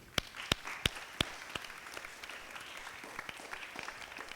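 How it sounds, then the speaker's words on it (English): An audience at an Islamic talk applauds volunteer mentors: four sharp, loud hand claps stand out at the start, then a thinner scattered round of clapping continues at a lower level. "please give a round of applause for these mentors"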